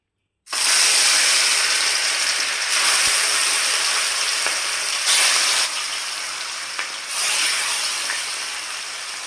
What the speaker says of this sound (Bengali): মাছটা ভাজবো আমি সর্ষের তেলে।